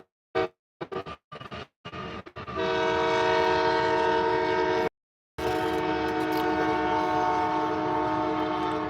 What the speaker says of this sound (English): Trains passing by.